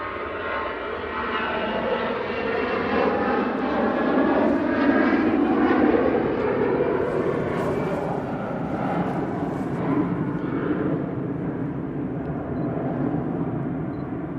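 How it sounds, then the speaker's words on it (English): An easyJet Airbus A320 departing Manchester Airport for Malaga makes a loud, sustained jet roar that swells and slowly shifts in pitch as it passes, alone without talk. "EasyJet off to Malaga now, A320."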